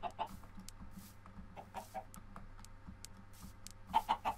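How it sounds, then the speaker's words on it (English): Soft, sparse clucking from chickens in Minecraft 1.14.4, a few quick clucks near the end over a faint steady hum; quiet and close. "there's a little stacky stack of chickens up there"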